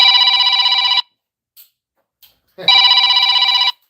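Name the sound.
telephone ringing in the workshop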